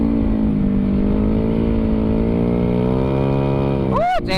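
A motorcycle engine on a solo holiday ride idles and runs steadily nearby with a smooth, even hum that rises slightly in pitch, ending with a brief squeaky burst.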